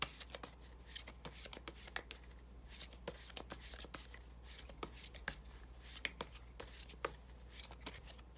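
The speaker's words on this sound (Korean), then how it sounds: "자, 조언 카드 뽑아볼게요." Tarot cards are shuffled and drawn in quick, close, soft slaps and riffles with an irregular rhythm over a steady low hum, with no talking.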